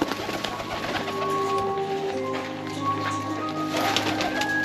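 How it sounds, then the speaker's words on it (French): Trained pigeons cooing at an amusement park animal show, soft repeated low coos over a murmuring outdoor crowd and ambient noise, steady throughout. "ils dressent des pigeons"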